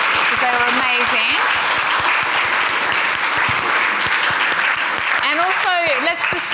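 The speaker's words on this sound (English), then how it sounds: "can everyone please give our panel a big round of applause" A hospital audience gives a big, sustained round of applause for an imaging panel. The clapping is loud and continuous, with a few cheers and voices calling out over it.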